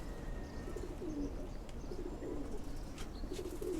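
Lalpatti pigeons cooing, soft low repeated coos from a few birds close by over a steady background hum, with no talk.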